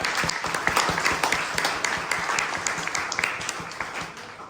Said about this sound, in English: Another big round of applause for all four of our speakers tonight.